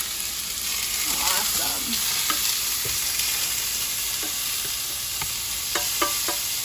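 Argentinian shrimp and butternut squash sizzle together in a single pan, a steady close frying hiss with scattered pops and stirring clicks, and a voice speaks briefly over it.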